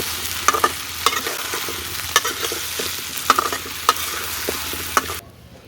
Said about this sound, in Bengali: বড়িগুলো আমি ধুয়ে বেছে পরিষ্কার করে রাখছিলাম তো সেগুলো দিয়ে দিচ্ছি একটু নাড়াচাড়া দিয়ে দিই